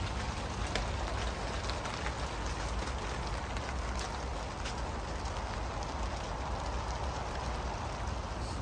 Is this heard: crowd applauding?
no